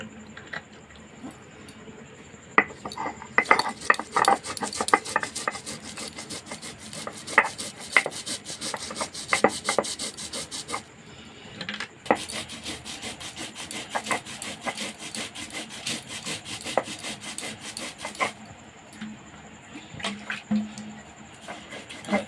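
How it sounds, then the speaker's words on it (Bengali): Poppy seeds and two green chillies ground on a stone, a steady rhythmic rasping and rubbing with repeated scraping strokes, close and fairly loud, running continuously with brief pauses. "এবার পোস্তটাকে বেটে নেবো।"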